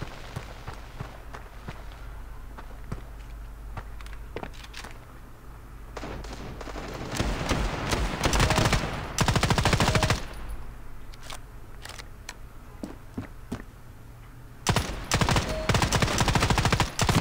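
Rapid gunfire bursts in the mobile shooter Standoff 2, with bursts of automatic fire and sharp shots mixed with footsteps, loud and close, growing heavier toward the end.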